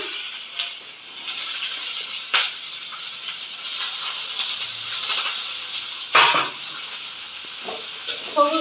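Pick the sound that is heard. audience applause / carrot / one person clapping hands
carrot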